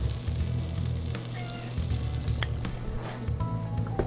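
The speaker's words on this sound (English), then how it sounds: "There we go. Got that sizzle going. It's nice and hot." Steady crackling sizzle of butter and extra virgin olive oil frying in a hot pan, close and continuous, with a few faint clinks and squishes.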